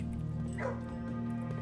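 A dog in the video game Blue Prince gives a short, faint yip and whimper, set against a steady hum of game music and ambience with no talking.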